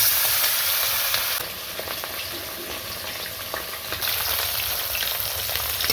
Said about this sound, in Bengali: এই যে বাকি মাছগুলো ভেজে নেব।